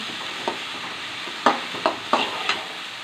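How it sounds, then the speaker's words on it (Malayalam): Onions sizzling steadily as they sauté in a pan for chicken curry, with several sharp scrapes and knocks of a spoon stirring them, close up and with no talk. "ചിക്കൻ കറി വെക്കാൻ വേണ്ടി സവോള വഴറ്റിക്കൊണ്ടിരിക്കുകയാണ് കേട്ടോ"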